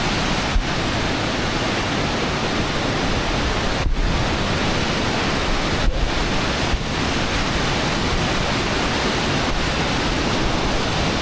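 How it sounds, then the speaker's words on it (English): Raging mountain river on the Tour du Mont Blanc: a steady, loud, broadband roar of rushing water fills the whole stretch without letup, close by and with no voices. "We're just getting to a bit where we cross the raging river."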